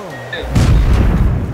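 An explosion inside the video game Rust, where one blast sets off a chain of others: a sudden heavy boom bursts out and rumbles on, loud and close, with faint game sounds before it.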